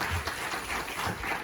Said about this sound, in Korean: 하나님께 영광의 박수 한번 하겠습니다.